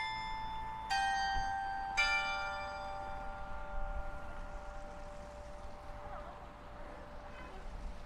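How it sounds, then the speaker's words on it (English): Chapel bells at a hillside chapel ring out twice in quick succession on the quarter hour, clear, bright strokes whose long tones fade slowly over a faint background of a trickling stream and light wind. "I guess the bells ring"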